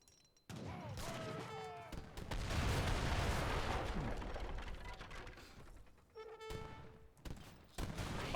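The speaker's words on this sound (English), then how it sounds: "Field guns actually sieging down the aggro fort" Field guns bombard a fort in Age of Empires III, with a burst of heavy booming volleys and crashing impacts layered with game sound effects and short musical cues, fairly loud in the middle stretch.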